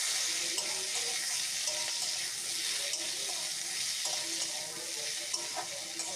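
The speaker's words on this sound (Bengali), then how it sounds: "হালকা হালকা লাল ভাজা হয়ে এসেছে আলু পটল প্রায়।" Potato and pointed gourd pieces fry in a pan after salt goes in, giving a steady bright sizzle throughout with occasional stirring scrapes, close and fairly loud.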